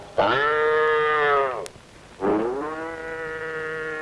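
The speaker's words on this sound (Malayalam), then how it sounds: "വീണ്ടും ഇതുപോലെ സർ പശു കരയും" A cow gives two long, loud, drawn-out moos close by, the first lasting over a second, then a brief pause before the second, with no talking.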